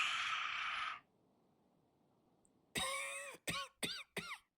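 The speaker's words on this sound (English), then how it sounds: "Edgar is coughing." A game character in Genshin Impact coughs in a run of four short, harsh bursts after a brief stretch of noise and a quiet pause, loud and close.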